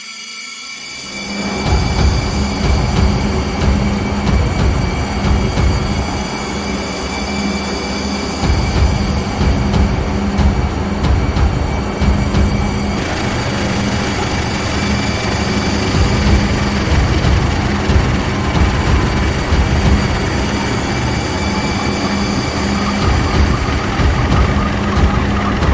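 A locomotive in a train video game rumbles steadily along, with a loud continuous engine drone, rhythmic wheel clatter and a brief squeal, heard alone without talk.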